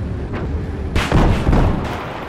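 Zuni rockets firing in Battlefield 4, heavy booming launches with a loud rushing blast, roughly two or three close, overlapping detonations over a couple of seconds with no talking.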